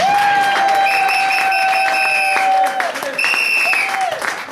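Church congregation applauding at a Saturday seminar in France, loud dense clapping filling the room for about three seconds, with sustained tonal sounds, likely music or voices, running over it and a brief dip before the clapping resumes.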